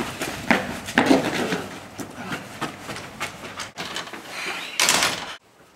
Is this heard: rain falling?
no